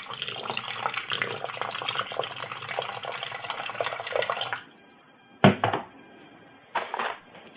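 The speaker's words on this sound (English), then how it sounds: "you just want to take some really good tap water, or spring water I mean, and I would do about 2 cups on the bottom to start" Tap or spring water pours steadily into a Toddy cold brew container, close and continuous for about four and a half seconds before stopping abruptly, followed by a couple of brief clunks and a short rustle.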